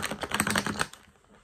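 A deck of tarot cards is shuffled close up in a quick burst of crisp, rapid riffling clicks that stops abruptly, leaving quiet.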